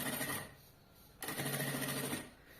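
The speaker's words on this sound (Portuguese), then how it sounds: "agora a gente vai costurar. Com retrocesso no começo." A sewing machine stitches a bag panel in two short bursts, a brief backstitch run followed by a longer forward stitch, close and fairly quiet with a rapid mechanical whir.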